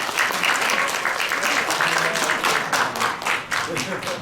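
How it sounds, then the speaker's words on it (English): Audience applause at a children's English Jataka storytelling contest after a student's entry, a loud, sustained wash of many hands clapping close by, steady for the whole four seconds with slight swells. "다시 한번 박수 부탁드리겠습니다"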